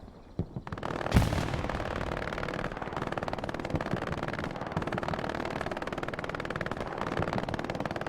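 Rapid machine gun fire crackles through a large-scale video game battle, a sharp burst near the start followed by steady, continuous rattling at moderate level with no talk.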